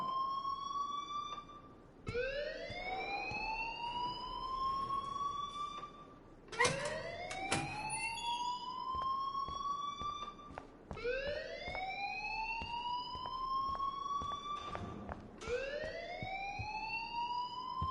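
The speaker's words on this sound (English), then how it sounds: "please turn off that alarm since that's your job." An alarm blares in the Life is Strange video game. It repeats a rising, whooping siren tone about every four seconds, loud and steady, with no voices over it.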